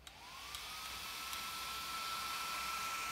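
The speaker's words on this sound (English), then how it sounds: "My fan is also super loud because it's an aftermarket fan." Loud aftermarket cooling fan on an Ender 3D printer spinning up and then running with a steady, close, broadband whir and a faint rising tone.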